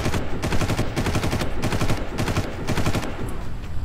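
Rapid automatic gunfire from the Far Cry video game, with steady bursts of close, loud shots that rattle on continuously with only brief gaps and no speech.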